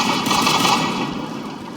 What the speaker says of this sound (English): I shoot him in the leg.